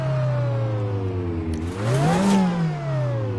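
Lancia Delta S4 Group B rally car in a racing game climbing the Transfagarasan mountain road, a droning engine with a high supercharger whine that dips, then rises sharply as it revs up before easing off again.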